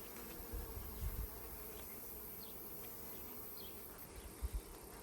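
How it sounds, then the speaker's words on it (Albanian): Honey bees hum around their hive in a soft, continuous drone, with a few faint low bumps. No voices accompany the buzzing. "E gjithë bleta kthehet dhe mbledh mjalt."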